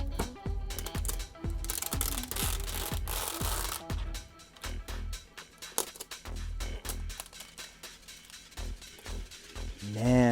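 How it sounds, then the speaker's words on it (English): Protective plastic film is peeled off a new 2018 Mac Mini, a 6-core i5 with an aluminum body, giving close crinkling, crackling and rustling bursts that gradually fade, with no talking. "So let's go ahead and take off this plastic."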